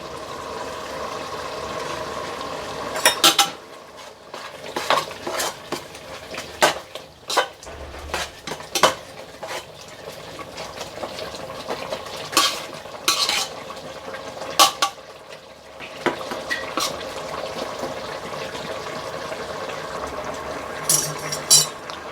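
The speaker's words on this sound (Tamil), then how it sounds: "ஆட் பண்ணி நல்லா மிக்ஸ் கொடுத்துருங்க." Mutton biryani is stirred in a metal pot while coriander and mint go in. A spoon scrapes and clinks against the pot in irregular, close strokes over a faint bubbling simmer, with no talk.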